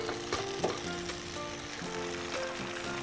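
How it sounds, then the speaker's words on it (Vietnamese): Wheat gluten (mì căn) frying in oil for a vegetarian pomelo salad, giving a steady close sizzle with faint clinks and stirring sounds throughout, no talking. "mì căn thì đang chiên"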